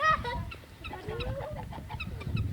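Chickens cluck and squawk nearby in short irregular bursts, with a rooster-like call rising in the middle over rustling background noise.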